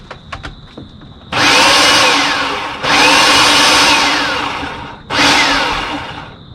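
A food processor pulses a clams casino stuffing mixture in three loud, steady whirring bursts separated by short pauses, with faint clicks before the first burst.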